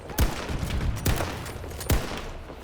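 Three sharp, loud gunshots in the Battlefield 2042 video game, spaced less than a second apart, each with a punchy low thump over a steady bed of battlefield noise.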